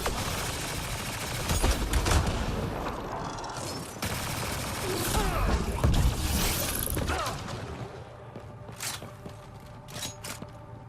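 Gunfire from an assault rifle in the video game Mass Effect: Andromeda, a dense battle mix of bursts, cracks and mechanical clatter running throughout, steady and fairly loud with sharp transients near the end.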